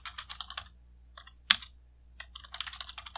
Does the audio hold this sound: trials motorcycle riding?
no